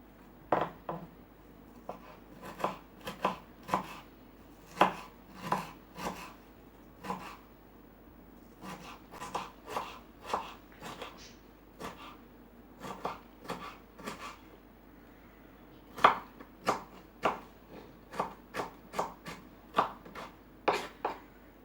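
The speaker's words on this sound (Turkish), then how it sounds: "büyük boy biber doğruyorum" Knife chopping large peppers on a cutting board, a steady run of crisp close knocks in quick bursts with short pauses between, no talking.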